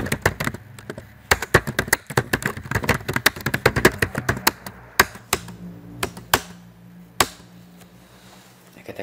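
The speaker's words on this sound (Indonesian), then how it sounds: "itu bunyi enter beberapa kali" Keys on a computer keyboard are struck in a fast, dense run of sharp taps that slows into a few isolated presses, ending with some repeated single keystrokes, close and crisp with no talking.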